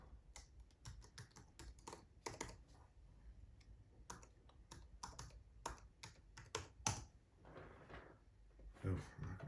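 Rapid, uneven keystrokes on a computer keyboard while a password is typed in, close by, with short pauses between bursts and a few louder clicks.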